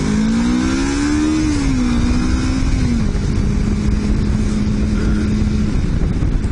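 A motorcycle engine runs steadily during a ride, a loud continuous drone whose pitch rises slightly and then settles into a constant hum, with no talking.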